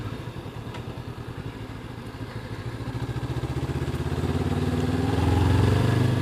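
Honda CB500X motorcycle engine under riding, a steady mid-pitched throb with a low pulsing rumble that swells as revs climb toward the end, close and alone without talk.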